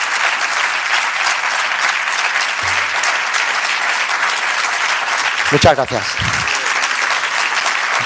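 An audience at the presentation of the photobook Sizigia applauds in a loud, continuous wash of clapping, with a brief spoken thanks near the end and a few louder knocks.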